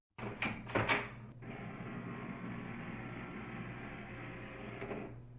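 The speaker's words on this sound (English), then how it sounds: "Wait about 10 minutes for your printer to stop making noises before you proceed." An HP DeskJet printer gives a few clacks and knocks, then settles into a steady mechanical whir and hum lasting several seconds, close and quiet.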